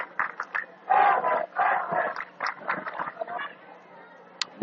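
A high school football student section chants in bursts from the stands during a Hagerstown at Shenandoah game, picked up by a crowd mic. Rhythmic group shouts rise and fall, fairly distant.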